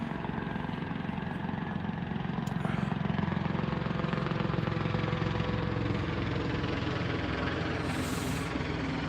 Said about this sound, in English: Same fucking chopper, man, going in fucking circles